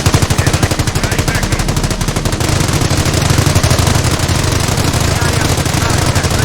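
A machine-gun nest fires in the WWII strategy game Company of Heroes: a rapid, evenly pulsed loud burst that blurs into a dense roar of battle, with a voice talking over it.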